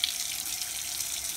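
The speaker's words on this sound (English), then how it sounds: "make sure your water is running as hot as it can go" Hot water runs steadily from a kitchen sink tap into a bowl, a soft, even hiss of flowing water without voices.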